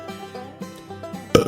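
A wet belch used as a comedic sound effect: a few low, gurgling croaks build up, then a louder burst closes it out.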